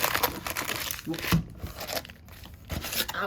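A Mystery Booster convention edition card pack wrapper is torn open, giving bursts of close, crisp crinkling and ripping plastic that come in uneven spurts with short pauses between them.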